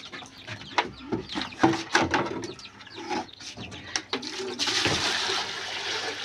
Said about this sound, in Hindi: ये पानी डाला है हमने